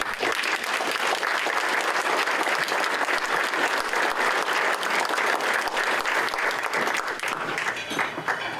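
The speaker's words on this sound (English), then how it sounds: "If you give them a round of applause" A seated audience at a community annual meeting and awards night applauds outgoing board members, dense sustained clapping from many hands filling the room at an even level throughout, without speech over it.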